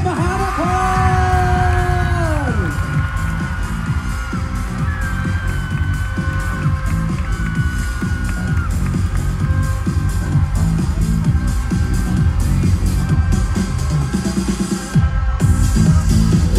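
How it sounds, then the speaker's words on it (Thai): Pageant audience at Miss Grand Thailand 2022 loudly yelling and cheering for Miss Grand Bangkok, a sustained roar of shouts and whoops with sung or stretched tones early on, continuing without letup. "ขอเสียงปรบมือให้Miss Grand"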